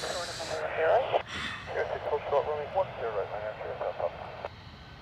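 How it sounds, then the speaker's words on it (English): Jet planes pass at Dublin Airport, a steady roaring hiss of aircraft noise running through the whole stretch while someone talks loudly over it close by. "every time these planes go by"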